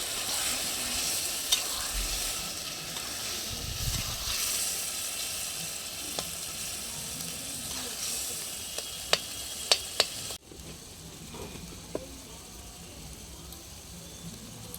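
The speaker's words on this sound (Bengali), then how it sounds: "এবার এটাকে ভালো করে কষিয়ে নেবো" Tangra fish curry masala stir-fried in a pan after a splash of water, a steady sizzle with scraping strokes and a few sharp utensil clicks, then quieter after a sudden drop.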